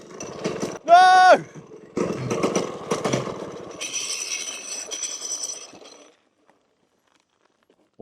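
A small mini moto engine with a suspected fuel or blocked-carburettor fault sputters in uneven bursts after a short high whine, then cuts out into silence; someone speaks briefly near the start.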